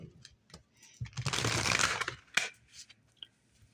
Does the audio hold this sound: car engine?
no